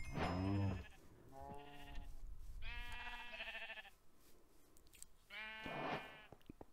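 Several sheep bleat in Minecraft, calls arriving in separate bursts across the clip with short pauses between them, moderately loud and close, with no talking over them.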